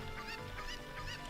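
A cucco chicken in The Legend of Zelda: Ocarina of Time gives short squawking clucks, about three in a row in a quick rhythm, over a steady game background.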